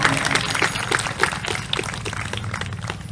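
Audience applause at a state-level campaign gathering, a dense, continuous patter of many hands clapping at moderate distance under a low hum, with no speech on top.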